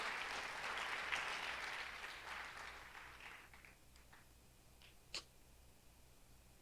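A church congregation claps in praise of God, a full burst of applause that thins and fades after a few seconds, leaving scattered faint claps and small noises in a quiet room.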